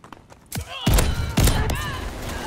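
Loud bursts of gunfire from a Call of Duty Vanguard gun game match, two heavy shot clusters followed by rapid ringing fire, with faint speech at the start.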